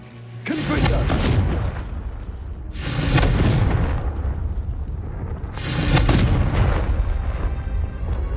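A Confringo blasting spell in Hogwarts Legacy sounds as three loud, booming explosions spaced a few seconds apart, each with a sharp onset and a long rumbling tail, over a steady low background.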